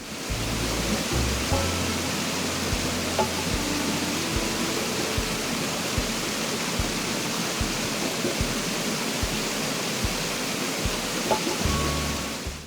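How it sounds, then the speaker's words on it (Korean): A loud waterfall pours continuously into a lake in the video game Animal Crossing: New Horizons, its even rushing roar broken by soft, regular hollow knocks from a bamboo fountain. "폭포 소리가 조금 시끄럽긴 하지만 대나무 분수 소리가 잘 어울리니 한번 보시죠."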